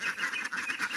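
Several ducks quacking close by in a rapid, continuous run of nasal calls, loud and alone.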